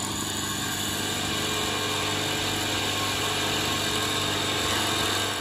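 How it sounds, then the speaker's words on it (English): Lathe running steadily while a six-line diamond tool wheel cuts a jewelry ring, a constant close mechanical hum with a high whine and faint rasp, unchanging throughout, no speech. "I just switch on my machine, it's ready to go, and I'm just hold carefully and I'm applying the magic wheel"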